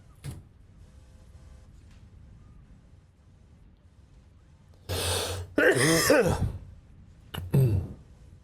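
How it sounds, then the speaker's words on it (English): A person coughing and clearing the throat close to the microphone, a short burst followed by a second rougher cough, with a quiet background before it. "If I did not edit out that cough just now, I'm sorry"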